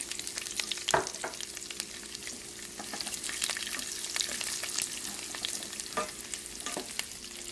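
Garlic frying in a pan on a home stove for a linguini and asparagus dish, a soft continuous sizzle with occasional stirring scrapes and clicks, quiet and close.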